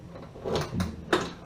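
The door lock of a Chevrolet Nova unlocks with a few short, close mechanical clunks, ending in one sharp click.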